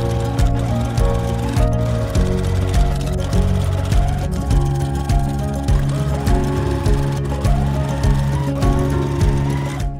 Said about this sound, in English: we're going to sew a piece B to the right-hand side of this unit